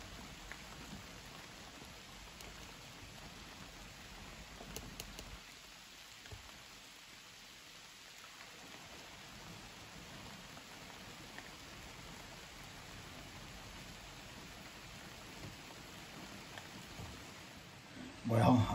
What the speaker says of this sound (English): I made it up here to the hunting shanty, and it's a pouring the rain down.